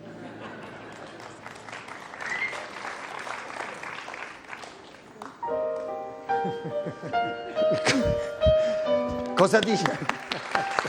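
An audience claps through a comedian's live stage show in a continuous crowd wash, then voices and musical tones rise over the clapping.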